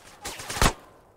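Gunfire in the video game GTA San Andreas, a quick burst of sharp shots peaking in one loud crack, heard briefly without talk.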